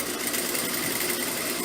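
A sewing machine runs steadily at close range, stitching the hem of a clochard-style trouser leg, a dense continuous whir with no pauses and no voices.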